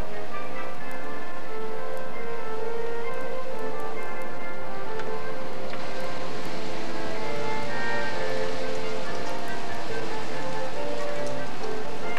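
Hail falling outside a house in November, a steady dense patter of many small ticking impacts, continuous and fairly loud throughout with no talk.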